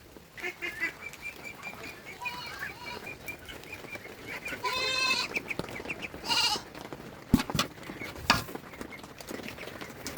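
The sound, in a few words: goats bleating on a farm in the rain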